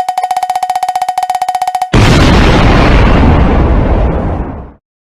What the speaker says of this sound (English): Yeah, we gonna explode.